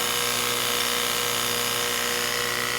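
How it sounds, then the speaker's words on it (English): A steady, continuous mechanical whine and hum from the pump of a 1986 Chevy K-10 truck, running evenly without pause and fairly loud throughout. "That pump's working now."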